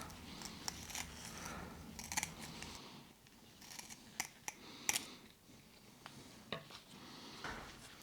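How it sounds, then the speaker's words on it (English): Scissors snip quietly through soft ceramic wool in a series of short, irregular cuts, with faint rustling between them. "you just need any type of scissors basically and cut around the material"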